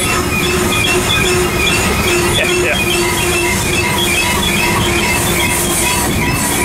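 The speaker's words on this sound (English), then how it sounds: "Pretty good size coal train." A long, heavy BNSF coal train grinds up the Cajon Pass grade, rumbling loudly and steadily close by with sustained wheel squeal and metallic rail clatter, a faint voice now and then over the noise.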